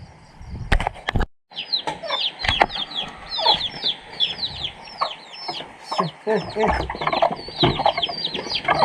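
Chickens, turkeys and ducks cluck and chatter at feeding time on a farm, with repeated close calls and bursts of fowl noise, a few sharp knocks and rain in the background.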